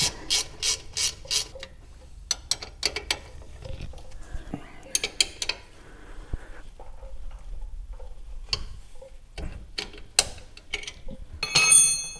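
A ratcheting wrench loosens the four nuts holding a dead wheel bearing on a 1996 Toyota Tacoma, heard as close bursts of rapid clicking with pauses and scattered metallic taps between them.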